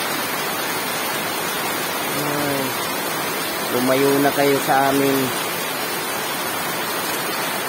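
Heavy rain pours steadily near riverside homes, a dense unbroken hiss filling the whole stretch while a voice speaks over it midway.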